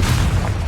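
A single heavy, booming blast from a Confringo fire spell in Hogwarts Legacy fills the short moment, dense and loud with a low rumbling body.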